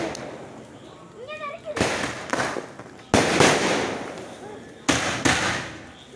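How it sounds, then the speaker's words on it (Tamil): Diwali firecrackers burst in loud, sharp cracks at home during the festival, three big bangs spaced a second or two apart with crackling tails, while people talk and a voice rises in the background. "தீபாவளினாலே பட்டாசு தான்."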